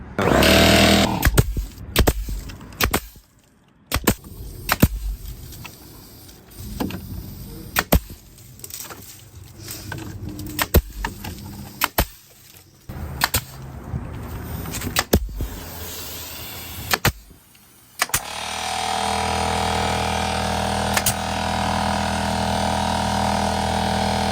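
Hammer or nail-gun strikes fasten lattice panels around a porch, sharp irregular bangs spaced a second or two apart, followed near the end by a steady loud whirring tool noise.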